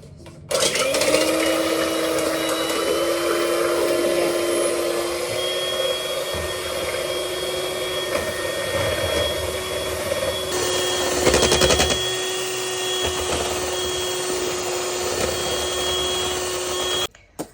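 An electric mixer runs on its highest power, beating eggs and sugar for a birthday cake. It gives a steady, loud motor whine throughout, with a brief change in tone partway through and no voices.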